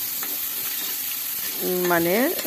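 Coconut and poppy seed paste is stirred in a hot pan for a pointed gourd dish, giving a steady hissing sizzle, with a brief voice rising near the end.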